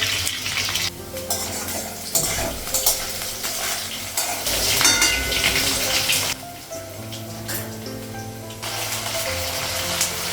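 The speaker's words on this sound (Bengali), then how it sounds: "গ্যাসটা বাড়িয়ে দেবো, আলুটা ভাজা হয়ে গেছে।" Potatoes frying in a pan on a gas stove give a steady, busy sizzle, mixed with clinks and scrapes of utensils and kitchen clatter throughout.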